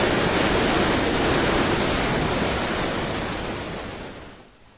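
Floodwater roars through Oahe Dam on the Missouri River during major flooding, a loud, dense, steady rush heard up close that fades out at the very end.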